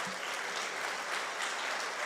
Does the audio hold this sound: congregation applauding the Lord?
yes